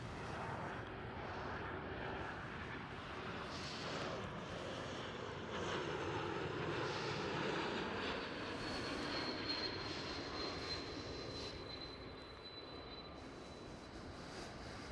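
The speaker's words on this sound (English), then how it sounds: "KLM City Hopper E195 E2 is going to be the next one." A KLM Cityhopper Embraer E195-E2 jet at Amsterdam Schiphol airport gives a steady, broad engine roar with a faint high whine. The sound swells slightly in the middle and fades a little toward the end, with no talking.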